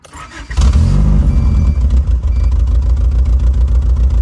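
A 1987 Honda Accord on choke cranking briefly, then firing up and settling into a loud, close, rough running idle that holds steady with small fluctuations.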